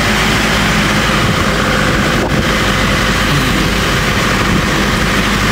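Motor boat engine on the Alleppey backwaters in Kerala, a loud, continuous low rumble and drone that stays close and steady throughout.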